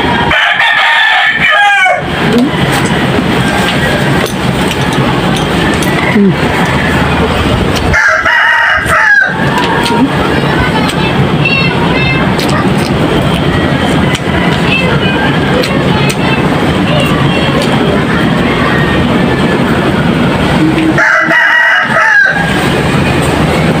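Roosters crow several times, loud and close, each call standing out over a steady, noisy outdoor backdrop during a home meal of vegetables, small fish and turmeric rice.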